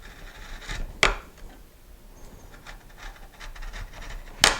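A sharpened chisel pares end grain of wood in soft scraping strokes, close and fairly quiet, with two sharper clicks about three seconds apart.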